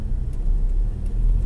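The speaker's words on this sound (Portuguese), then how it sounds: "Tira o pé do freio acelerando de leve." Car engine idling low and steady as the brake is let off, a gentle throttle bringing a soft, continuous rumble inside the cabin with no sharp revving.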